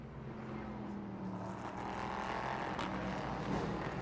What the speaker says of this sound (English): the amazing noise that these cars make in the background